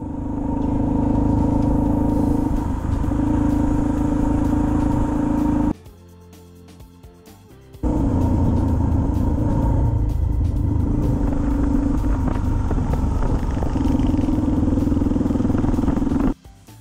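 A group of about sixteen motorcycles rides a Mid Missouri gravel road near Ashland, giving a loud, steady engine rumble with gravel clatter that drops out briefly, then returns at full strength.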